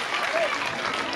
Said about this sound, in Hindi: सबके लिए तालियां बजा दो एक बार।